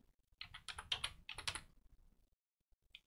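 Someone types a password on a computer keyboard during an Ubuntu 18.04 32-bit install, with a quick run of close, crisp key clicks in two bursts, then a pause and a final keystroke.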